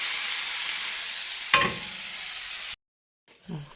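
Food frying on its second side in a pan, a bright steady sizzle with a brief sharp spike midway, cutting off abruptly into near silence before a faint rustle at the end.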